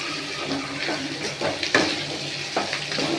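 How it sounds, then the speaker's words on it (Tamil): Dried red chillies sauté in a pan for beetroot chutney, a close, moderate sizzle with repeated scraping and clinking stir strokes. "நல்லா வதக்கணும்"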